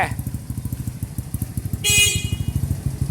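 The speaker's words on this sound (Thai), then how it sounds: "เอากดแตร" A vehicle horn honks once, a bright sustained blast lasting a fraction of a second over the steady putter of an idling motorcycle engine.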